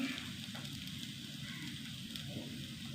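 Curry leaves sizzling in hot oil on the stove while tamarind is being cooked, a steady close crackle and hiss that runs evenly throughout without pause.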